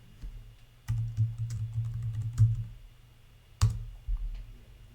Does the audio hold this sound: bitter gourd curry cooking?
no